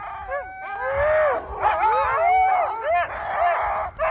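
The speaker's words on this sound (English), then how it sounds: "She and her partner Björn Klauer run a husky farm and offer dog sled tours around Norway" Sled huskies on a husky farm in Norway howl and yip together in a noisy chorus, overlapping wavering cries rising and falling for several seconds with short barks mixed in.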